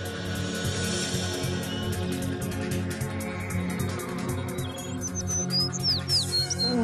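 Cartoon birds chirp and tweet in a lively chorus over a bed of background music, with quick rising whistle-like calls growing busier toward the end; no voices.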